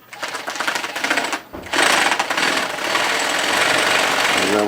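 A carpet binding machine, model NC TPB, sews binding tape onto the edge of carpet with a loud, steady mechanical chatter that breaks briefly, then restarts and runs on continuously and close.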